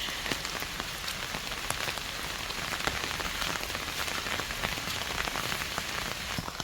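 Monsoon rain falling steadily on a house and areca and coconut plantation near Udupi, a dense even patter of drops hitting surfaces throughout, close and unbroken, with no voices.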